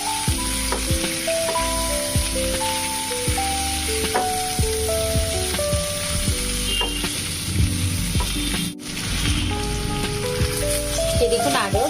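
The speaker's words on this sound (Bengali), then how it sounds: "তো গ্যাসের ফ্লেমটা লো করে দিয়ে আমি এটাকে আরও 2-3 মিনিট মতো ভেজে নেব" Vegetables frying in a pan over a low gas flame, a loud, dense sizzle that crackles steadily throughout, with spatula stirring and a faint voice underneath.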